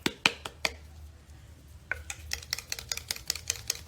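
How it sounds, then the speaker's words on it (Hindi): Paint container shaken to mix colour for marble candle making, giving a few sharp rattling knocks at first, then a steady run of quick rhythmic clacks close by, with no talking. "मैं क्या कर रही हूँ, इसको शेक कर रही हूँ अच्छे से"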